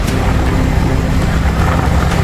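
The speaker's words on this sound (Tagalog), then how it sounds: "Pagbigyan ko lang yung sasakyan." A car goes by on a road with a steady low rumble and road noise, near and moderately loud, and no voices over it.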